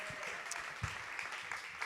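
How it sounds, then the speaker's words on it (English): Audience applause at an award ceremony for graduation prizes, a steady wash of clapping held at moderate level for a couple of seconds, with a few louder claps standing out. "Yes, a warm applause."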